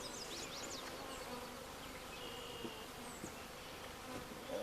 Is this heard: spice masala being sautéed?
no